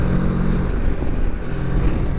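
A Moto Morini X-Cape 649 motorcycle engine revving, a steady, near, moderately loud motor drone heard alone for a couple of seconds.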